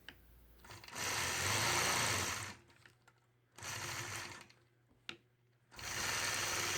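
A home sewing machine stitches a quilt block, running in three steady bursts of close, even whirring with brief quiet pauses between them.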